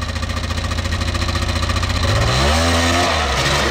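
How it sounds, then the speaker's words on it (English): A two-stroke, two-wheel-drive quad ATV on a muddy obstacle course buzzes close and loud with a raspy, chainsaw-like engine note, then revs up sharply partway through as the throttle opens. "Mike Reed, two-stroke, two-wheel drive"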